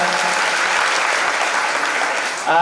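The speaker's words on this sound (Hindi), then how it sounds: "सब लोग तालियां बजा करके स्वागत कर दीजिएगा।" A village gathering's audience claps to welcome the MLA, a steady dense burst of applause lasting a couple of seconds before a voice cuts in at the end.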